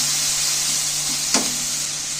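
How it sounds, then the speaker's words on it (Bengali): Food sizzles steadily in a hot pan, a continuous close frying hiss with a low hum and one brief clink. "দেখো ভাজা ভাজা হয়ে গেছে।"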